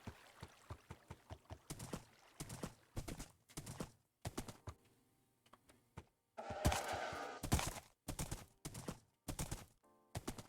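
Video game horse hooves clip-clopping in quick rhythmic bursts as the horse rides across the countryside, a close, crisp series of hoofbeats with a louder rustling stretch midway and short pauses between runs.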